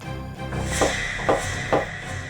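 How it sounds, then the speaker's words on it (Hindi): Three evenly spaced knocks on a door, fairly close and solid, over a steady background hum with no talking. "चलिए अभी दरवाजा खटखटा लेते हैं।"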